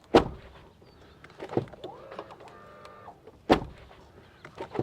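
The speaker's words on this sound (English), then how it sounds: "let's do a quick door sound check" Two heavy Tesla Cybertruck door slams, several seconds apart, each with a sharp thud and brief rattle; faint mechanical whirring and clicks fill the gap between.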